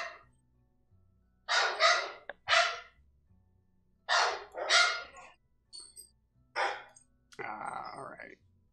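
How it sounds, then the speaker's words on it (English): Dogs bark indoors in a home setting: several loud clustered barks in bursts with pauses between, close by, plus a rougher, noisier final yelp. "Sorry about the dogs."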